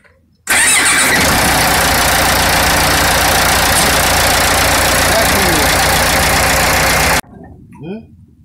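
A car engine, run after diesel fuel was added to the engine oil, cranks and catches abruptly, then idles loudly and steadily for several seconds before cutting off, followed by faint handling noises.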